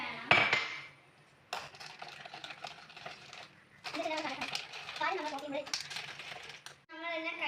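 A spoon clinks and scrapes against a glass while stirring homemade cold coffee, giving bursts of bright metallic tinkling separated by pauses, close up, with a voice speaking in between.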